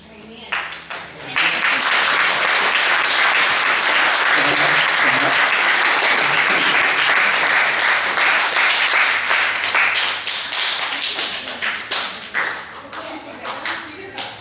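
A youth worship night audience in a church bursts into loud, sustained clapping that swells after a brief start, holds steady for about ten seconds, then thins into scattered claps.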